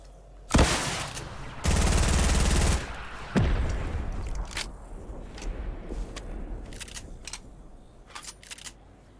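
Rapid bursts of gunfire and sharp rocket blasts in a Fortnite battle, loud and close at first, then fading into scattered lighter shots and clicks, with no voices.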